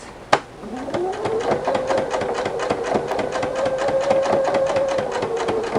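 A Husqvarna Viking sewing machine fitted with a ruffler attachment stitches steadily and alone, its rapid even needle strokes running close and loud after a brief sharp click at the start, with a rising motor whine that levels off.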